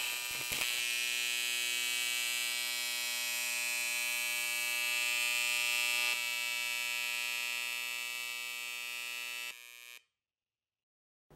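An AC TIG welding arc on aluminium at 60% AC balance produces a steady, loud, harsh electric buzz with a strong hum lasting about nine seconds, then cuts out abruptly into silence.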